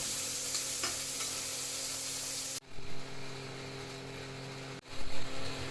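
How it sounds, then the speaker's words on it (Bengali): Shrimp sizzling and being stirred in hot oil in a kadai, a close steady hiss that cuts off abruptly twice and resumes with scraping stirs. "কড়াইয়ে তেল একটু গরম করে নিয়েছি তার মধ্যে চিংড়ি মাছগুলোকে দিয়ে দিলাম হালকা নেড়ে চেড়ে"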